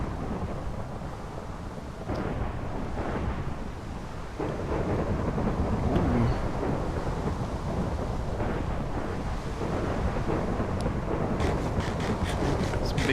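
Continuous roaring rumble of a thunder and lightning storm in Minecraft, with rain and wind-like noise swelling and holding steady throughout, loud and close with no voices.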